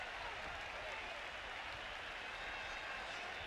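A sellout stadium crowd at an NFL football game, Miami at Tampa Bay in 1997, roars steadily after a touchback, a dense, continuous wash of distant cheering and noise with no break.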